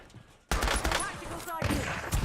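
Dense, loud gunfire in Warzone, a burst of overlapping shots erupting suddenly and continuing in close, crackling volleys, with a voice partly mixed in.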